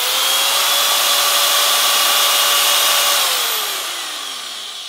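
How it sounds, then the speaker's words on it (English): A Makita cordless sheet metal nibbler runs alone at close range, a loud steady high whine that holds for about three seconds and then drops in pitch as the motor winds down. "one of the first things that struck us about the cordless one is that it's not quite so loud"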